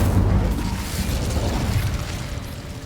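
Incendio fire spell from Hogwarts Legacy bursting in a dense, rumbling blast that starts loud and slowly fades over a few seconds, with no talk.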